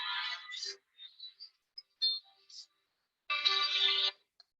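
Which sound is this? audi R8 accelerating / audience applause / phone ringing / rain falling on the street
phone ringing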